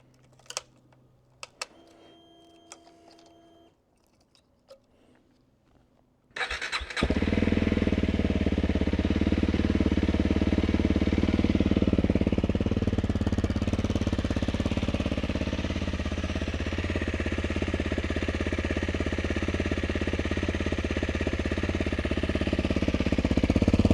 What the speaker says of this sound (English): We're almost ready to start up the motorcycle.